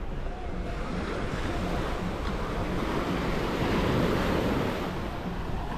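Rough surf rolls onto a sandy Tulum beach in a continuous broad roar of breaking waves and wind, steady and close with no voices.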